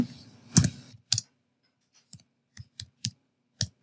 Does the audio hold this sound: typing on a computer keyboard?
yes